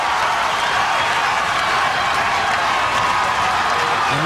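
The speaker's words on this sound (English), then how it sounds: "look at the size of the crowd cheering on the hometown favorite, Phil Pfister" A large crowd roars and claps for hometown favorite strongman Phil Pfister at a World's Strongest Man event, a loud, dense, unbroken wash of cheering.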